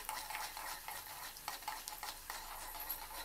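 Chana dal, mustard seeds and cumin frying in hot oil for a tiffin-centre style chutney tempering: a dense, continuous sizzle with light stirring scrapes, close and fairly quiet, no voices.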